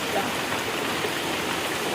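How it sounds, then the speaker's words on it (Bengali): Heavy rain pours down outside as a dense, steady hiss that stays constant and fairly loud throughout, with no distinct drops standing out. "কি বৃষ্টি হুড়িয়ে নেমেছে"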